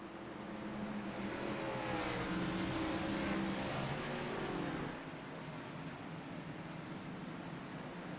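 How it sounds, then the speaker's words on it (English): NASCAR Xfinity race cars roar past at Richmond Raceway, a dense continuous engine drone that swells loudly then eases slightly as the field accelerates under green flag racing. "we are back under green flag racing on lap number 28 here at Richmond Raceway"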